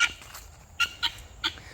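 Chickens that wandered away from the flock call out in a few short, sharp squawks and clucks, loud and near, spaced irregularly over a quiet background.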